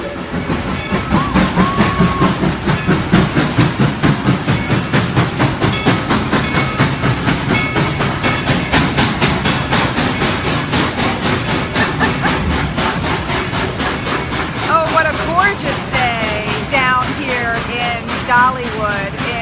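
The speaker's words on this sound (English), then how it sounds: "you can hear the train in the background." A train rolls past at Dollywood in Tennessee with steady clickety-clack rhythm from the wheels over rail joints, loud and near throughout, and a whistle sounds toward the end.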